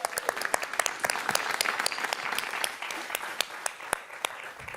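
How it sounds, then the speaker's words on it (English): An audience at an evening talk on Asian American activism breaks into applause: dense, crackling claps with a few sharp, louder individual claps standing out. It holds steady and fairly loud for about five seconds. "Let's give them applause."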